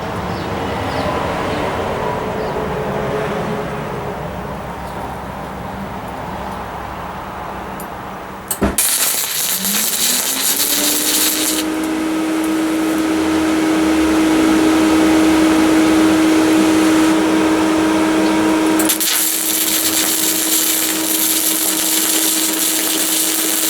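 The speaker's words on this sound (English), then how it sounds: "We're about ready to weld here. And I'm just going to tack this on real quick," Tack welds being laid on a push mower deck, a harsh, loud crackling buzz that starts abruptly partway through and runs steadily up close, with a low steady hum beneath it.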